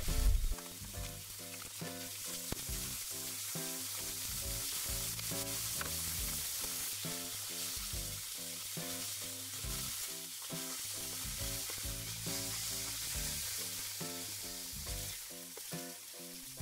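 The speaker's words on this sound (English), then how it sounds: "I'm just getting ready to cook the steaks here, give them a bit of oil and a bit of salt" Supermarket steaks from Waitrose and Marks and Spencer, oiled and salted, sizzle loudly and continuously in a hot pan, a dense close frying hiss with faint crackle throughout and no speech.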